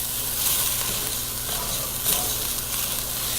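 Rice sizzles steadily in a hot pot as it is stirred and toasted for risotto, with a continuous close frying hiss and soft scraping from the stirring, and no talking.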